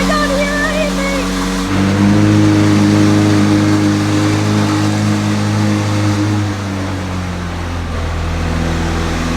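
A 4-litre twin-turbo V8 sports car engine with 825 horsepower revs loud and close, a deep sustained roar that surges after a brief lower idle and holds steady to the end, with faint voices at the start.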